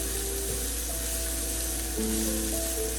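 Onions sizzle and fry in a pan on medium heat for a Punjabi dhaba-style chana dal, a steady close hiss with faint stirring and tonal kitchen hum over it, no talking.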